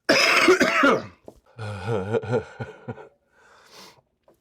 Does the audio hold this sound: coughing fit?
yes